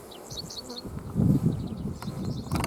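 A single honeybee buzzes close around a beekeeper working a smoker at the hive, its whine rising and fading as it circles near.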